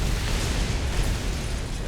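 Aircraft rockets loosed from an Ilyushin IL-2 in War Thunder, a continuous roaring rush of rocket fire over engine noise, loud and steady with no talk.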